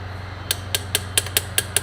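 A fuel solenoid on the injection pump of a Cat 3208 diesel engine clicking, heard as seven sharp, evenly spaced metallic ticks over a steady low hum, close and fairly loud.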